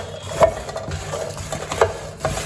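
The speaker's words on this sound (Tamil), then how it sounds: "இப்போ மிளகாயை வறுக்க போறேன்" Dry red chillies are roasted without oil in a pan for sambar powder, stirred with a few distinct scraping knocks and light rustling over a faint background, with no talk.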